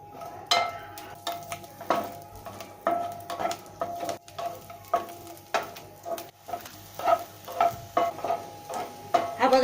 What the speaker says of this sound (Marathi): आता आपलं तेल सुद्धा गरम झालेलं आहे तर आपण हा लसूण आहे ना थोडासा हलकासा आपल्याला तांबूस करून घ्यायचा आहे